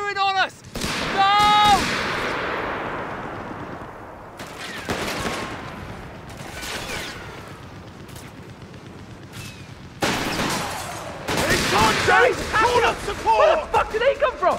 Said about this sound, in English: That HMG's firing on us!